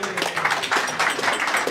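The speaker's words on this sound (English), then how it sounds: "A round of applause, please" Brief, dense clapping from an audience at a community gathering, a short burst of steady applause lasting under two seconds.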